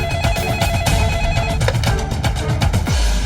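A telephone rings loudly and repeatedly in a drama scene, set against a dense, busy background of steady noise and music.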